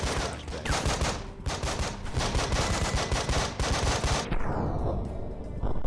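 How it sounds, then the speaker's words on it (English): Sustained automatic gunfire from the Breach and Clear tactical video game rattles densely and loudly for about four seconds, then drops to a fading, ringing tail, with no speech. "Joe, you are going to YOLO shoot this guy in the face."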